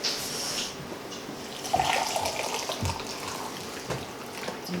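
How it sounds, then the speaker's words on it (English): Boiling hot water pours and splashes from close by in a steady stream at a campsite, with a few brief surges and clunks. "I'm just going to pour the water"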